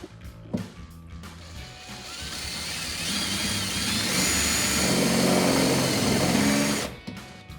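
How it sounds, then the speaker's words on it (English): A power drill bores a hole through the fender lip of a 1999-2006 Chevrolet Silverado / GMC Sierra 1500 pickup, whining loudly and steadily for several seconds after a few short starts, then stopping abruptly. "Get the hole drilled."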